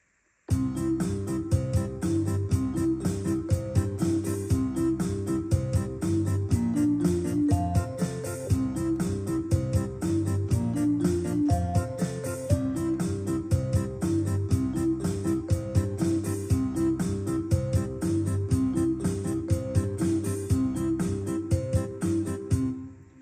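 A full Yamaha PSR-SX920 keyboard arrangement with recorded multipads plays back with steady drums, bass and layered chords, a busy, continuous groove at even volume with no talking.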